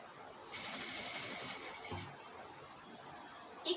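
A sewing machine runs a short burst of stitching along the neckline of a star neck blouse, a quick rapid chatter that starts and stops after about a second and a half, then quiet with a small click at the end.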